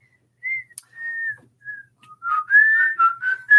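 A person whistles a song melody, clear sustained notes at first, then quicker wavering phrases, close and alone in a quiet room.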